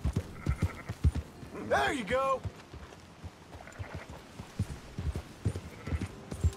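Horse hooves clip-clop at a steady riding pace in Red Dead Redemption 2, close and rhythmic, with a horse's whinny in the middle and scattered bleating and talk around it.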